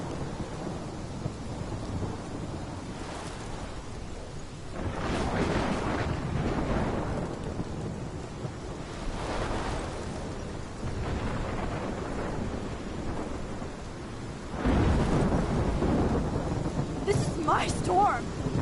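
Thunder rolls in repeated loud, rumbling surges over constant rain and wind in a storm from the video game Life is Strange, each crash swelling and fading, with the heaviest burst near the end.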